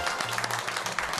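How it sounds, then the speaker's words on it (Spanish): Studio audience applause for two cooks on a cooking show, a dense, continuous patter of clapping from many people, with a low voice briefly audible underneath. "Hoy pido un super aplauso para las dos cocineras de hoy"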